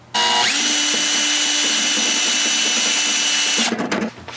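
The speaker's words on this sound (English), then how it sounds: "I just put the drill inside of it and basically just went straight through the wall." A power drill whines loudly and steadily for several seconds, grinding through the metal wall of a Behmor 1600+ coffee roaster, then spins down with a few rattling bursts at the end.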